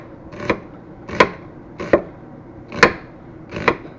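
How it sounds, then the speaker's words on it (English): A knife chops an onion into small pieces on a board in five crisp, evenly spaced strikes, each a sharp close thud with a brief crackle of the onion's layers and no talking. "Cut your onion in half. You want to cut in small pieces."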